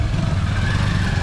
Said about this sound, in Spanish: nos fuimos en la moto con mi amigo